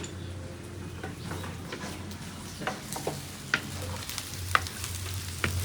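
Onion and spices lightly frying in an open pot for pakora, a steady sizzle broken by occasional stirring scrapes and small clinks, close and fairly quiet with no voices.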